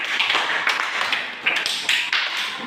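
A classroom group claps for presenters at a university teaching session, a short burst of scattered hand claps with uneven rhythm, fairly close and moderately loud, with no one speaking.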